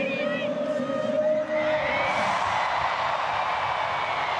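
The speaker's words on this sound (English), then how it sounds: "Listen to that crowd getting into it" A stadium crowd at a women's rugby test between the Black Ferns and Australia swells into a broad, steady roar of cheering, with a commentator's voice over it early on.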